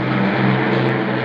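Battle of Britain Memorial Flight propeller aircraft at RAF Coningsby, a steady loud engine drone with a strong low hum, continuous through a short moment with no talk.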